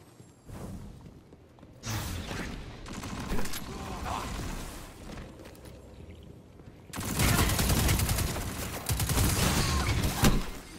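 Gunfire from a weapon in Destiny 2, loud and sustained. Dense bursts of rapid shots come in stretches, with the heaviest, continuous firing near the end and no talking.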